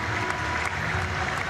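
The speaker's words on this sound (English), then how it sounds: "that big cheer you just heard was for" A home crowd at the European Para Table Tennis Championships cheers and applauds table tennis player Martin Perry in a steady, dense wash of clapping with no voice over it.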